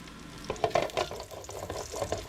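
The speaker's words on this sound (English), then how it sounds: "Just gonna fry these up" Chicken nuggets sizzle and crackle steadily in hot oil in a pan, with soft scraping and stirring noises over the frying.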